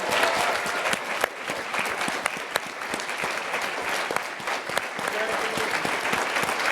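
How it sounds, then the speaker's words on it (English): Steady, dense applause from an audience cheering the winning team at an awards ceremony, sustained clapping with scattered sharp claps throughout. "let's give a big round of applause to Team Bart and all the scientists"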